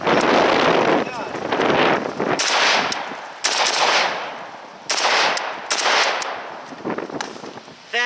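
Bursts of rapid AK-47 rifle fire outdoors, loud and sustained with brief pauses between strings of shots, mixed with wind noise on the microphone.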